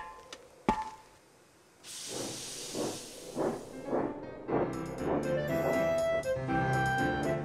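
Cartoon steam engine hissing loudly, then puffing in a steady rhythm of chuffs as it rolls into a wharf, with musical tones rising over the puffs.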